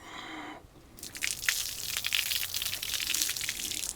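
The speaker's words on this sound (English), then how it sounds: "You spill some wine, you dump some water on it." Water dumped onto a teak wood surface, a sudden splashing rush after a brief quiet moment, continuing as irregular spattering and trickling close by with no talking.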